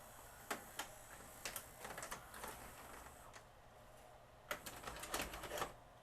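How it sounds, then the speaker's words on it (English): A Magnavox ZV457MG9A VCR ejecting a tape: a quiet series of mechanical clicks and clacks from the loading mechanism, scattered taps early and a cluster of clunks near the end over a low hum. "I'll eject the tape out of the unit."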